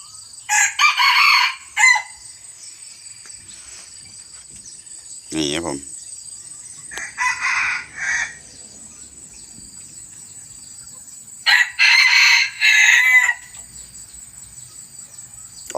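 A young crossbred game rooster, about three months old, crows loudly several times in long strained calls, separated by pauses, over a steady high insect drone.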